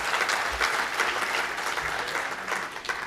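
Audience applause at the closing ceremony of a national dialogue, a dense, steady wash of many hands clapping that continues throughout without voices over it.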